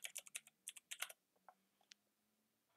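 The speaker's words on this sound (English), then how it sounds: "you're typing" Typing on a computer keyboard: quick bursts of crisp, close key clicks in uneven clusters, then a few sparse, fainter taps with pauses between them.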